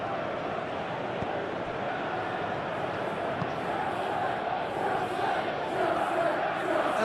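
Disgruntled stadium crowd in a football video game match between Chelsea and Barcelona, a loud continuous roar and jeering wash of many voices with a commentator talking over it.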